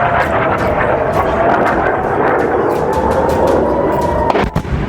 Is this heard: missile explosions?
yes